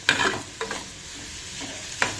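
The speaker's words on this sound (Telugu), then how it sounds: "వెల్లుల్లి రెబ్బలు 4 వేసుకున్నాం. ఇవి కూడా ఫ్రై చేసుకుందాం." Four garlic cloves fry in hot oil for a tomato pickle, giving a soft steady sizzle broken by a few sharp stirring scrapes at the start, middle and end.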